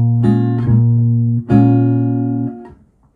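Acoustic guitar playing chords from a song, strummed slowly twice, each chord left to ring out clearly and fade, loud and close.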